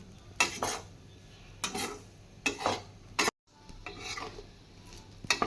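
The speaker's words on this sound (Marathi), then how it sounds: "ही भेंडी मी छान अशी हलवत आहे जेणेकरून ती खाली करपू नये." Masala okra (bhindi) being stirred in a pan with a spoon, a few separate scraping strokes against the metal, close and fairly quiet, with a faint sizzle beneath and no talking.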